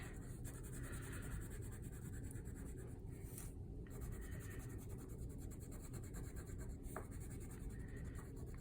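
A crayon colors on paper in a kindergarten art lesson, giving a continuous soft scratching texture that stays close and steady throughout, with no voices.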